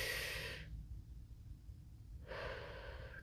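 Deep breath taken during a quiet medical exam: a breathy exhale fades out, a pause of near silence follows, then a soft, close inhale, all very faint.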